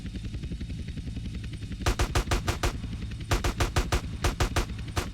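Automatic gunfire in Grand Theft Auto: San Andreas: two sharp, rapid bursts of evenly spaced shots, the first about six rounds and the second about ten, loud and close over a low, steady game background, with no talk.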